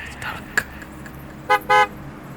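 Taxi horn as a sound effect in a Bengali horror radio drama, two short honks close together, the second longer, after a quiet pause.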